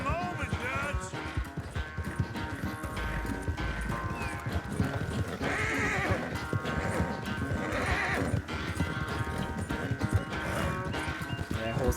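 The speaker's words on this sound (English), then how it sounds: "horse is not happy." A horse in Red Dead Redemption II neighs and whinnies several times over steady galloping hoofbeats during a race, with people talking throughout.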